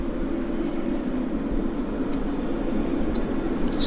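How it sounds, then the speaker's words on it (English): Airliner arriving from Ottawa taxiing in at Vancouver airport, a steady low jet engine rumble and broadband whine holding evenly throughout, with a couple of faint high ticks near the end. "This is our Ottawa arrival, taxiing in."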